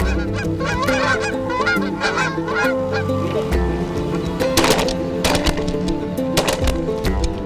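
Repeated honking goose calls, loud and close, blown in quick bursts and clucks, mimicking Canada geese; a call imitating the bird rather than live geese.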